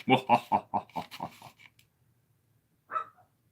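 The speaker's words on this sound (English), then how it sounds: "That dog, I swear." A dog barks in a rapid burst of about seven close, loud barks, then falls silent before one more short bark.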